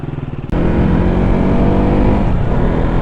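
A KTM Duke 200 motorcycle engine idles with a pulsing beat, then abruptly roars into a loud sustained rev close to the microphone that eases slightly toward the end.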